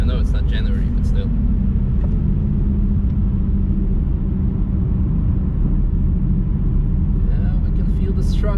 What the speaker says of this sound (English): we can feel the struggle of the car